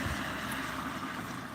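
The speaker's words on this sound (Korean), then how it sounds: "바람 소리 들리시나요? 바람 소리가 점점 심해지고 있습니다." Wind blows steadily as a faint, broad whooshing rush, with no voices.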